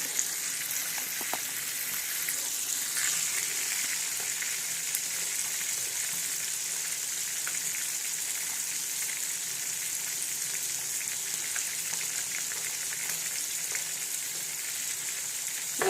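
Mackerel fish frying in a pan gives a steady, even sizzle that runs unbroken for the whole stretch, with occasional faint pops and crackles and no talking.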